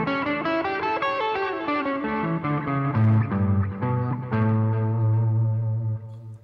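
An effects-laden electric guitar plays a dominant pentatonic scale, a steady run of sustained notes stepping down in pitch and wrapped in distortion, chorus and echo, alone with no talking.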